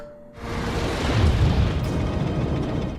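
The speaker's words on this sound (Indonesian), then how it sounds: "motorbootnya didorong nabrak ke kotak kontrol listrik sama bahan bakar. Meledak dan rusak." A motorboat rams an electrical and fuel control box in the film Deep Blue Sea 2, setting off a loud explosion: a sudden roaring blast that swells and rumbles on with crackling debris for about three seconds, with no talk.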